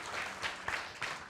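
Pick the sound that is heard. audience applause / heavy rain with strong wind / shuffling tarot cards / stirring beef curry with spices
audience applause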